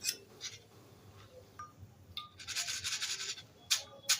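Crispy roasted dal stirred in a pan for thin-poha chivda, giving dry scraping and rattling bursts, with a longer loud stretch of rustling near the middle and a sharp scrape near the end.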